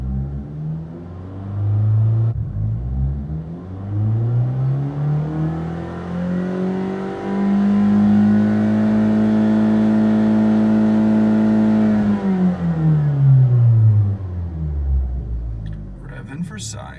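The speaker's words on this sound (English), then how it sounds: "3 wide open throttle pulls" Abarth car engine revved at wide open throttle, fitted with new spark plugs and coils on a fresh tune, rising in pitch through a long pull, holding high, then falling away, loud and close with a steady droning rumble and no talk.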